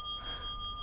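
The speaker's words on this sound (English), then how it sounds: "The bell of remembrance is being rung." A bell of remembrance rings once at the start, its steady metallic tones lingering and slowly fading over less than a second, loud and alone with no voices.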